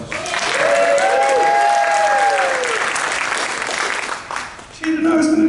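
A comedy-club audience breaks into loud, close applause, with a few voices calling out over it; the clapping dips briefly near the end, then surges back as someone speaks.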